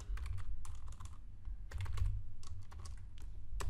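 Quick bursts of keystrokes on a computer keyboard come in short clusters, close and clear, with brief pauses between runs.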